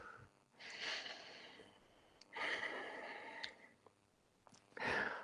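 Three long, breathy exhales during a yoga flow, each a soft airy rush lasting about a second, spaced apart by quiet pauses, close to the microphone.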